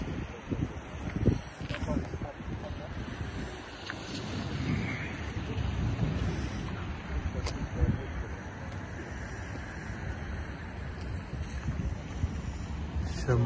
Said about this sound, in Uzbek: Shamol qattiq chiqyapti.